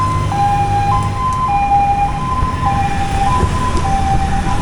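An ambulance siren wails on a street in Kampala, Uganda, its two-tone pattern alternating steadily and loud over a background of road traffic, with no talking.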